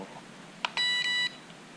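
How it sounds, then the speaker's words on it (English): Controller beeps from a budget FPV quadcopter signalling its rate setting: a short chirp, then two longer electronic tones back to back, crisp and close against a quiet background. "2 beeps is midway"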